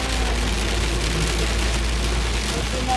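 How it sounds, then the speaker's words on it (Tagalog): Heavy rain with hail in Einsiedeln, a dense, steady roar of drops hammering surfaces that fills the clip without letup, with a low rumble underneath. "Grabing ulan."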